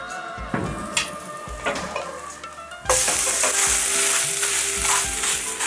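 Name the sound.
chickpea flour omelette frying in oil under lid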